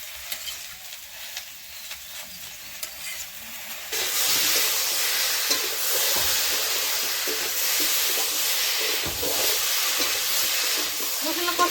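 Turmeric, green chili, cumin and ginger pastes fry in a pan, a quiet stir at first, then a loud, steady sizzle and hiss that keeps going, with occasional scraping.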